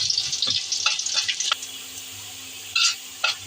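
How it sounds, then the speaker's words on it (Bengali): Dried chilli, cumin and garlic sizzle and crackle steadily in hot oil, with a few louder spitting bursts near the end and no voices. "প্রথমে আমি তেল দিয়েছি, তারপরে দিয়েছি একটু শুকনো মরিচ, তারপরে যে জিরা, তারপরে দিয়েছি রসুন, এগুলো দিয়ে ভালো করে ভাজবো।"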